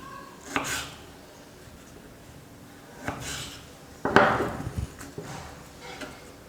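A knife slicing potatoes thinly on a cutting board, with a few separate dull knocks and scrapes spaced out over several seconds, close by, the last strokes louder and quickly repeated.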